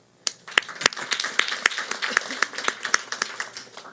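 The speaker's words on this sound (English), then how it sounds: "That deserves a hand clap." Audience at a Baltimore City Public Schools event breaks into hand clapping, a modest group of distinct, fairly sharp claps in an uneven rhythm, moderately near and without talk.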